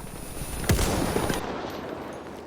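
A single rifle shot in Battlefield 1, fired with the weapon switched to bolt-action mode: a sharp loud crack followed by a decaying rumble and tail, heard alone without talk.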